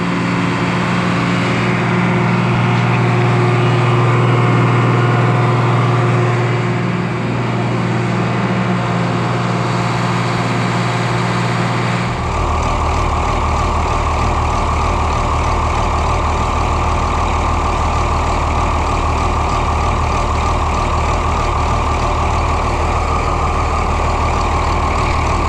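An Oliver 1855 tractor with a 310 turbo engine runs loud and steady close by, idling at first and then revving to a higher, harsher drone for the rest of the clip.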